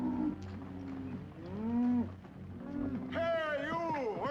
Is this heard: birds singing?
no